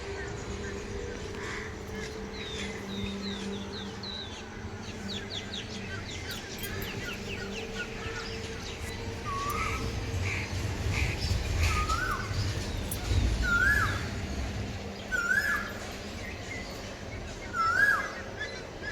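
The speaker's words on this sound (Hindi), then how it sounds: "इतनी प्यारी प्यारी चिड़ियों की चहचहाट की आवाज़, पक्षियों की गुनगुनाने की आवाज़" Birds chirp and call at about 5:30 in the morning, with repeated short whistled notes rising over a low ambient hum and some background voices.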